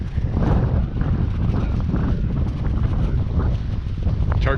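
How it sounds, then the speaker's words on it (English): Strong wind gusts roar against the microphone out on the water beside a jon boat at night, a loud, constant rumble with no pause. "It's super windy."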